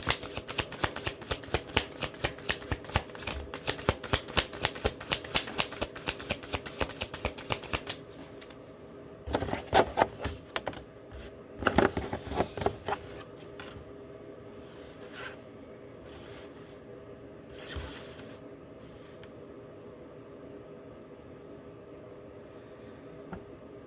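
Tarot cards shuffled by hand in a slow meditative shuffle, a steady run of crisp riffling flicks that thins out into sparse, quieter taps and slides near the end, close and alone.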